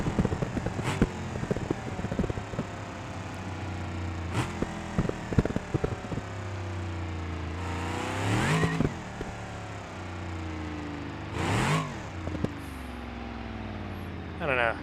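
A car with side pipes spins its rear tires in BeamNG.Drive. The engine revs hard in rising and falling sweeps, with two loud bursts late on, under someone talking throughout.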